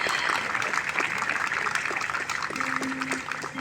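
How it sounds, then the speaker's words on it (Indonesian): Theatre audience applause after a stage performance by Teater Garasi, a dense wash of clapping that stays steady throughout, with some faint tonal sounds rising near the end. "Boleh tepuk tangannya sekali lagi."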